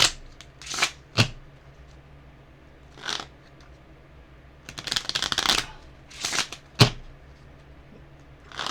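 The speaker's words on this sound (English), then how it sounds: "Shuffle these up good." A deck of cards is shuffled by hand in several quick riffling bursts with pauses between them, close and fairly quiet with no talking.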